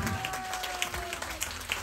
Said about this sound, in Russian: Давайте вместе похлопаем ей.